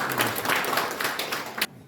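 An audience at a forum on overseas Korean policy at the National Assembly gives brief applause that stops abruptly after under two seconds, leaving near silence.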